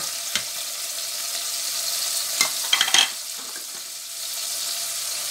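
Masala with salt, chillies and ginger fries in a pan for a radish and spinach sabzi, a steady hiss of sizzling oil broken by a few sharp stirring scrapes and taps, with no talking.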